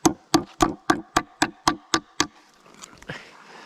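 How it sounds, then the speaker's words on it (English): Nine sharp hammer blows drive nails into wood in a steady, even rhythm, close and loud, followed by a couple of softer knocks. "don't pound in those nails all the way"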